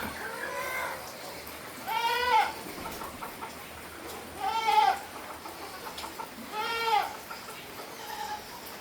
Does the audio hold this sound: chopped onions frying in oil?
no